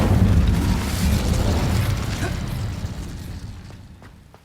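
The Incendio fire spell from the Hogwarts Legacy video game erupts in a loud, whooshing fiery burst that roars at once and then slowly fades over several seconds.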